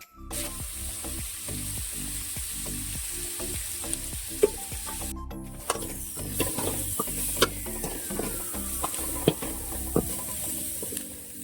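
Onions, dried red chillies and curry leaves fry in oil for a horse gram rasam, a continuous bright sizzle broken by the scrape and clink of a spoon stirring in the pan, close and fairly loud throughout.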